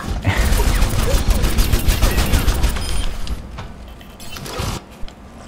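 Rapid gunfire from a first-person shooter, Overwatch on PS4, rattles loud and continuous for about four seconds before tapering off into a few scattered shots.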